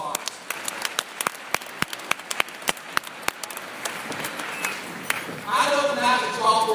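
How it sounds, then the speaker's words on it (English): An audience at a university new-student-day gathering claps for family members and friends, starting with scattered individual claps that build into fuller applause, with a voice speaking near the end. "So give them a big round of applause."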